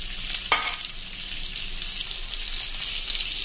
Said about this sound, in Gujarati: હવે એમાં આપણે આજે 250 મરચા 1 મરચાના 4 ચીરિયા કર્યા છે એ આપણે આમાં નાખી દેશું